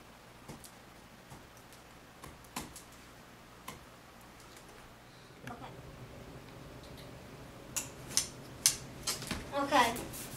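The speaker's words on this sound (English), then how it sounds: "Now it's time to cut out the wing." Scissors snip through material to cut out a model wing for a wing-in-ground-effect craft, with scattered faint clicks at first, then a denser run of crisp, close cuts toward the end.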